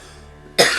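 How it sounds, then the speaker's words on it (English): A single sharp cough bursts out close by after a moment of near silence. "I still got a little bit of a cough."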